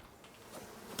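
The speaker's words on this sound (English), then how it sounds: "when you have the bees stay the hell away from you" Bees buzzing in the survival game Icarus, a soft, steady insect drone that swells toward the end, close by and with no talk over it.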